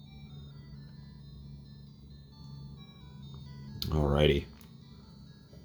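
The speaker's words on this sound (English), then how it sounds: "If you can hear it, it is still playing the Pokemon Center theme." Tinny Pokemon Center theme from a Game Boy cartridge playing faintly and steadily during a save battery swap, with a short spoken word briefly over it near the end.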